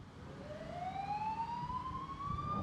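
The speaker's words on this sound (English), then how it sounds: "Lights and sirens." A siren wails upward in a long rising sweep, with a steady road rumble underneath.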